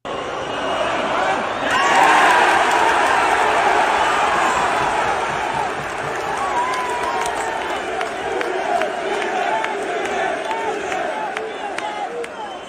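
A stadium crowd at a football match roars and cheers as a player stirs them up, a broad sustained wash of voices that swells early and then holds at a steady level.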